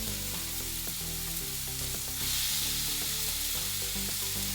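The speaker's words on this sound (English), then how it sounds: "Watch that sizzle." Ground turkey sizzles and crackles loudly in oil in a hot pan, a steady frying hiss that swells partway through, with no talking.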